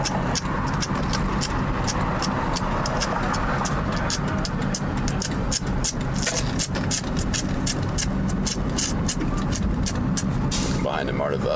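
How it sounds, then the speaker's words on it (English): City traffic behind a MARTA bus heard while cycling, with steady loud road and engine rumble and repeated clicking, a voice speaking over it. "Behind a MARTA bus currently."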